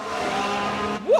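A race car in the F1 Manager 22 racing game spinning out, a brief engine roar cut off by a sharp rising tyre squeal at the end.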